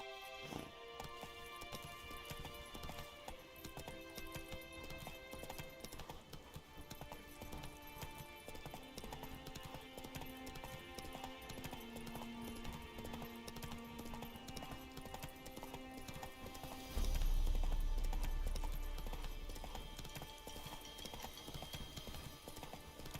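Rhythmic clip-clop of horse hooves galloping in The Witcher 3 video game, steady and fairly close throughout, over game music and ambience, with a brief loud low thump near the end.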